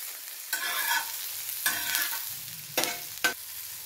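Onions and green chillies frying in a pan over medium-low heat, a soft steady sizzle broken by four sharp scraping stirs spaced through the clip, with no talk.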